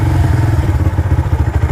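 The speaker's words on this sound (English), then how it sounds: "better if I keep the engine running" A Lexmoto Venom 125 motorcycle idles close by, its single-cylinder engine giving a steady, loud low-pitched throb with a rapid even pulse and slight mechanical clatter.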